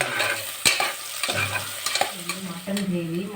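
Biryani ingredients fry over a high flame, a sizzle that crackles close by while a ladle stirs and scrapes the pan again and again.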